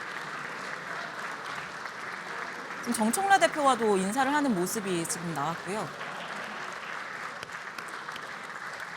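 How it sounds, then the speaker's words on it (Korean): Ruling-party lawmakers stand, applauding and cheering as President Lee Jae-myung enters the National Assembly plenary chamber for a supplementary budget address; sustained massed clapping swells midway while a commentator keeps talking over it. "이재명 대통령 본회의장에 입장하고 여당 의원들이 지금 박수로 환호하고 있습니다"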